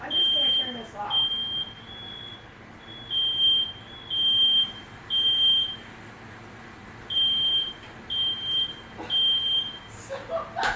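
Smoke alarm set off while cooking, a loud high-pitched beep pattern repeating in bursts of three over about ten seconds, with people talking quietly underneath until it cuts off.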